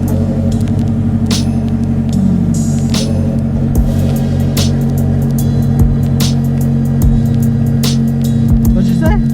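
A Subaru WRX fitted with a new Tomei exhaust idles with a loud, steady low engine drone and rumble, swelling slightly as it revs, heard close up with a voice speaking briefly over it.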